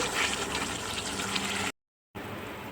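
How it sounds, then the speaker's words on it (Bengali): Hot water poured into frying spice mix for a raw banana curry: a loud hissing, bubbling gush that cuts off abruptly for a moment, then resumes at a lower level. "তারপরে এতে আমি গরম জল অ্যাড করব"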